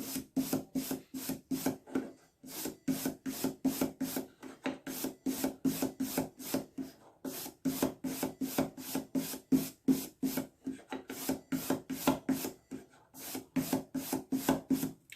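A two-grit buff stick sands a ring blank being prepared for inlay. Quick back-and-forth rasping strokes come in steady rhythmic bursts with short pauses, close and fairly quiet.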